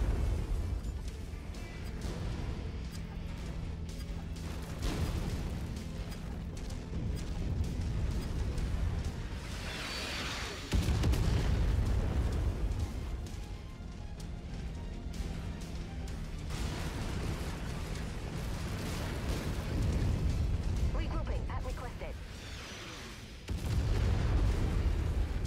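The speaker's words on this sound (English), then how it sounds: "Try to avoid this artillery." Heavy artillery shells burst in repeated booming waves in Mechwarrior 5, rumbling loudly and continuously with brief lulls between the blasts.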